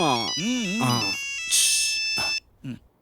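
A phone ringtone plays a melodic tune, then stops; a short voice follows after it cuts off.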